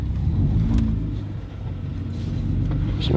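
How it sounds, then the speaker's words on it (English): A parked car's engine idles steadily, a low continuous rumble close by, with no voices. "So I'm gonna just keep the car running."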